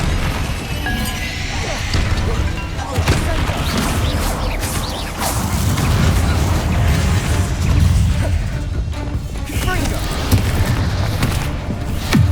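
Confringo spell blasts in Hogwarts Legacy combat: dense, continuous booming, crashing and whooshing impacts layered over each other throughout, loud and close, with brief sharp hits scattered among the rumble.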